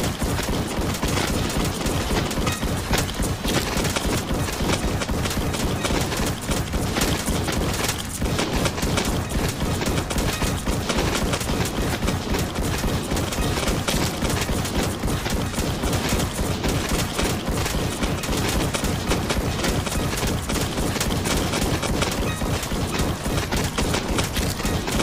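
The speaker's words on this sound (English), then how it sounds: "Let's get the heavy sniper out here." Weapons firing in Roblox Too Many Weapons Simulator during a heavy sniper fight, a dense, unbroken barrage of loud shots rattling on continuously at the same level.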